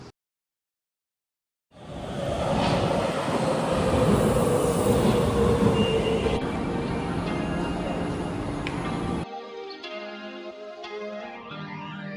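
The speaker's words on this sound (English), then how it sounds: "I'm gonna take the subway to get there" A Munich subway train rumbles loudly and steadily along the track for several seconds after a brief silence, then the roar drops away into a quieter, ringing whine as the ride continues.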